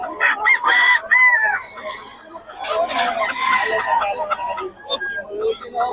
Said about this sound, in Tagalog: Ito yung mga manok natin mga idol.